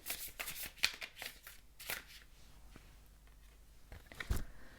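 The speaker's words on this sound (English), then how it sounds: "Let's pick an oracle card for you." Oracle cards are shuffled by hand, a quick run of soft riffling and flapping bursts that are quiet and close, then trail into light shuffling without speech.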